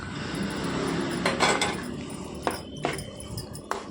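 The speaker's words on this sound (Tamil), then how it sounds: "5 தோல் உரித்து சின்ன சின்னதாக கட் பண்ணி எடுத்துக்கலாம்." A knife cuts peeled bananas into small pieces, giving several sharp, irregular taps against a hard surface over a steady background hiss.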